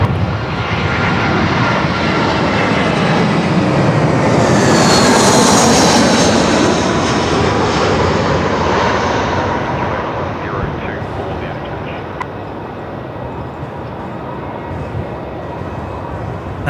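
A Jetstar airliner arriving from Launceston at Melbourne Airport passes with a loud, broad engine roar that peaks early, rising into a high whine before slowly receding, with talk faintly underneath.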